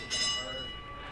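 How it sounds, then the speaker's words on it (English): A bell rings once to end a round at a sparring match, a bright metallic clang with a sustained ringing tone that slowly decays over a second, fairly faint under background noise. "I don't know if you could hear that bell, but that is time in the round"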